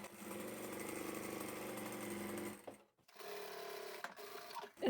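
A sewing machine stitches a crossbody bag, its motor whirring loudly and steadily up close, then pausing briefly before starting again for a shorter run.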